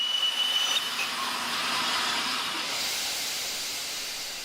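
A loud, steady hiss of escaping steam from the Flying Scotsman steam locomotive fills the air, broad and continuous, with a faint whistle-like tone at the start.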